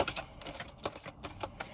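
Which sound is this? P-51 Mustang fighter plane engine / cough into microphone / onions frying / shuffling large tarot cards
shuffling large tarot cards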